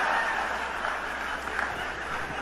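A stand-up comedy audience gives a round of applause, a steady dense wash of clapping at moderate distance that holds for a couple of seconds.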